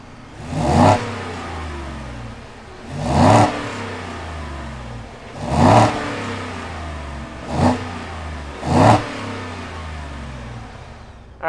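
A 2021 Ford F-150 Lariat V8 revving up several times: five loud, close throttle blips spaced a few seconds apart, each swelling and falling back to a steady idle rumble, no talking.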